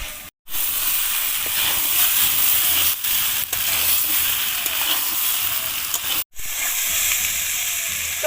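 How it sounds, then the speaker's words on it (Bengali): Potatoes and jackfruit frying hard with spices in a pan, giving a loud, steady hiss and sizzle that runs nearly the whole time, broken by two brief silent gaps. "আলু আর এঁচোড়টা আবারও আমি কিছুক্ষণ মশলার সাথে কষিয়ে নেব।"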